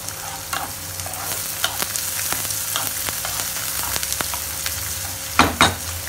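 Ginger garlic paste fries with onion in a pan for prawn masala, a steady close sizzle with scattered utensil taps, ending in two louder scraping stirs.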